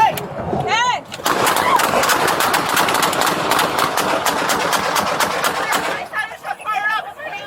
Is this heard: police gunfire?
yes